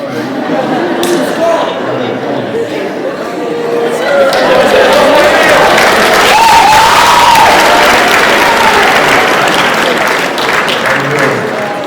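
School assembly audience applauding a volunteer on stage, loud sustained clapping from a large crowd that swells midway, with cheers and voices mixed in.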